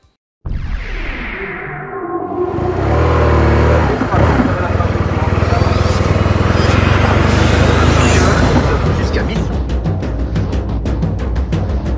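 Motorcycles at the 7th edition of a motorcycle rally in Palavas make a loud engine roar that rises and revs for several seconds, with a sustained rumble and crackling as bikes pass close by.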